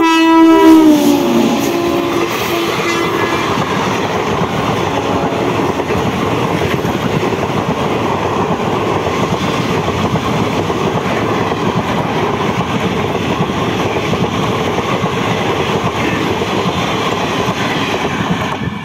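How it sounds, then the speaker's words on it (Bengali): Teesta Torsa Express passenger train passing through Balagarh station on the Howrah–Katwa line, loud and close, opening with a horn blast and then a sustained roar with rhythmic clickety-clack of wheels on rail joints. "এই আসছে তিস্তা তোরসা এক্সপ্রেস"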